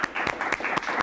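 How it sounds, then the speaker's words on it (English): A webinar audience applauds a FinTech guest, a few loud, close claps in quick uneven succession over a short burst. "Let's give a round of applause for Sigita."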